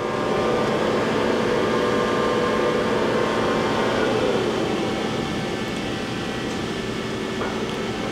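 A new 2007 Johnford ST-40G+CF CNC lathe runs steadily in its third gear range at about 150 RPM, a continuous close mechanical hum with tonal whine that slowly shifts in pitch, no talking.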